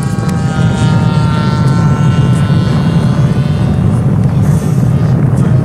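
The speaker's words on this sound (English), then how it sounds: "low pass of the 35cc juice stuka" A radio-controlled Stuka dive-bomber model with a DLE 35cc gas engine makes a low pass overhead, its steady buzzing drone loud and continuous throughout with a rising and falling whine as it flies by.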